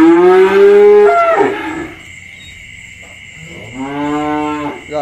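Cattle at a cattle farm moo loudly and close by: one long, deep low, then a pause, then a second sustained moo near the end, with no talking.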